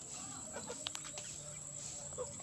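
Chickens clucking at a farm. Short, fairly faint clucks and calls come in scattered bursts over a steady background hum.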